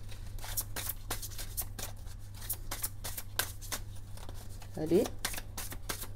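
Tarot cards shuffled and drawn by hand, soft papery riffles and flicks repeating close by, with a low steady hum underneath and a brief spoken word.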